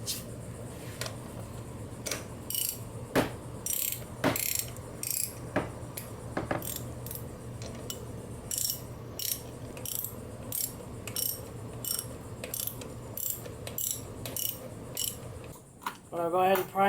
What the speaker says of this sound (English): Now we're going to tighten up the 2 bolts.